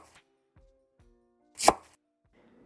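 A single sharp chop as a utensil cuts through a hot urad vada soaked in sambar, with faint light clicks of handling before and after in an otherwise quiet setting.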